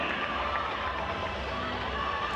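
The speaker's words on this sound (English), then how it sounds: "And that's lifted the crowd here at John Cain Arena." A basketball crowd at John Cain Arena in Melbourne roars steadily during a women's WNBL game, a dense, continuous wash of cheering and shouting from a large indoor audience.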